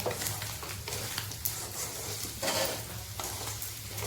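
Salted food being stirred in a hot frying pan, with a steady sizzle under repeated scraping strokes of the spoon, close and moderately loud, with no one talking.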